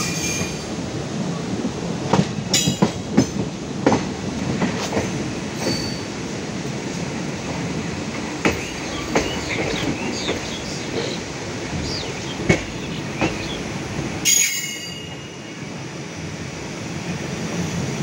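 Riding aboard the Tirupati-Puri Express as it pulls into Khurda Road Junction: a continuous rumble of wheels on rails with scattered sharp clicks and clanks, and a burst of squeal near the end.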